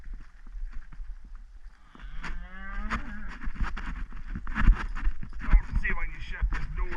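Cattle with young calves lowing on the way to spring pasture, a few moos rising from about two seconds in over wind rumble and nearby voices.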